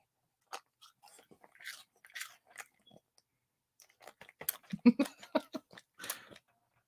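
A dog chews a crunchy treat, irregular crisp crunches and bites spread across several seconds, close and fairly quiet, with the sounds growing denser toward the end.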